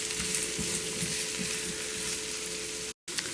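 A whole hot pepper sizzles in an oiled pan as it is stirred for escovitch fish tacos, giving a steady, close frying hiss throughout with no talking.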